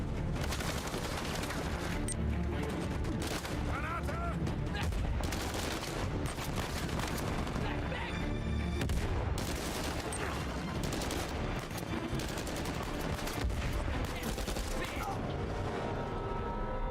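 Continuous bursts of gunfire and booming explosions fill a firefight in the action video game Uncharted 4, loud and dense throughout with barely any pause, and some talking mixed in underneath.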